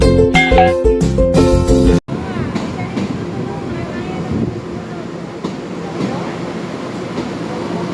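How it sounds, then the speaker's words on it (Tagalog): A train pulls into a station in Taiwan with a loud, continuous rumble and rattle of rail cars. A short burst of music comes first, and voices can be heard under the noise. "Our train is here."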